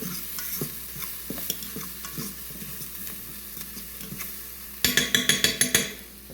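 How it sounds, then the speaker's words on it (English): Bacon fries and is stirred in a pan, with a steady greasy sizzle under repeated scraping and stirring strokes, ending in a quick run of sharp metallic clinks from the utensil tapping against the pan. "we'll want to stir the bacon a bit more"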